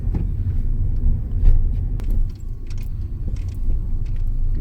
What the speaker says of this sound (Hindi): गाड़ी आराम से 18-19 की स्पीड पे अपने आप क्रॉल कर रही है।